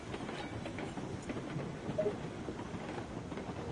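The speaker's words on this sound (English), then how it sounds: "the engine that has 311 on it in the train game that I'm playing" Steady rumble and clatter of the 311 locomotive rolling along the track in Railroads Online, a continuous even drone with faint rhythmic clicks, no talking.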